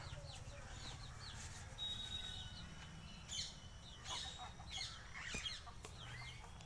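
Hens cluck and chatter steadily against a constant outdoor background hum, with a few sharper calls rising now and then; no one speaks.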